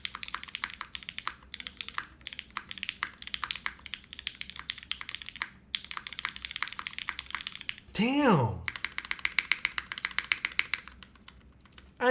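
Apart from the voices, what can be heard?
typing on a polycarbonate Kohaku mechanical keyboard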